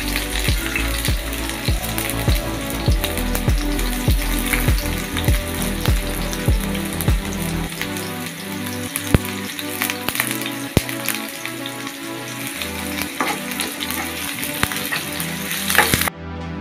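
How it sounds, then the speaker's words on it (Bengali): Onions frying in ghee, a loud continuous sizzle crackling close by, with repeated stirring strokes and scraping rhythmically through the first half, then a steadier hiss and occasional clatter. "একটু করে ঘিও দিয়ে দিলাম। পেঁয়াজগুলো ভেজে নিলাম।"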